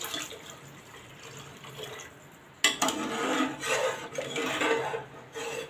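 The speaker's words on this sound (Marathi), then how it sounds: "तसंच मी एक वाटी दूध घालत आहे" Milk poured from a bowl into a cooker pot of water for wheat lapshi, a soft splashing trickle that starts abruptly and runs for a few seconds after quieter handling sounds.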